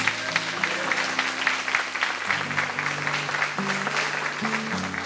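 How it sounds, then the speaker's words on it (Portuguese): Church congregation applauding during a sermon. Dense, steady clapping fills the space while sustained keyboard or organ chords play underneath. "Dê um forte aplauso ao Senhor."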